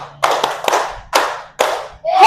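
Groups of sharp hand claps in a classroom ice-breaking counting game, led by a teacher, arrive as several separate bursts of clapping in a quick rhythm with short pauses between, fairly close and loud, with a voice briefly heard at the end.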